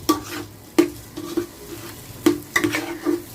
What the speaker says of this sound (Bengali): চালটাকে ওইটা দিয়ে একটু সামান্য হালকা সর্ষের তেল ভেজে নেব